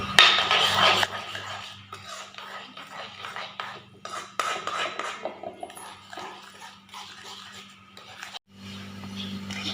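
A spoon stirs food colour, cardamom powder and baking powder into a homemade wheat biscuit mix in a bowl, giving close, uneven clinks and scrapes against the dish, with a faint steady hum underneath.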